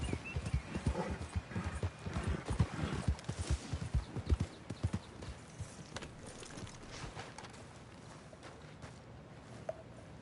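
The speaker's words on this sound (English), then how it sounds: "Get a hold of that horse, Morgan." Horse hooves clip-clop at a walk in Red Dead Redemption 2, a steady close rhythm of hoof strikes with an occasional whinny, under quiet ambience.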